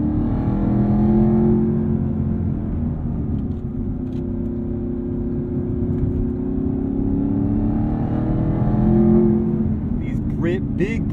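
A Chevrolet Camaro ZL1 1LE with a cat-back exhaust pulls hard from inside the cabin, its loud engine and exhaust drone rising and falling steadily, with a brief higher chirp near the end.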